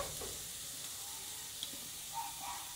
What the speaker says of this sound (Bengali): গাজর আর আলুটা কিন্তু ভালোভাবে তেলে কষিয়ে নিয়েছি। আর এখানে ভেজে রাখা সুজিগুলোকে আমি দিয়ে দেব।